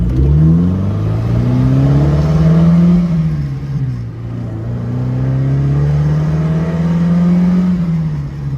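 A 1969 Alfa Romeo Spider Veloce accelerates hard at high speed, its engine note rising through the gears with one shift midway, loud and close from inside the car.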